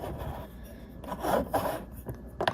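Threading a nut back onto a MOEN shower head by hand, giving soft scraping, rasping rubs in short irregular bursts, close and fairly quiet, with no talking.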